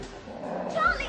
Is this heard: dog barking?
yes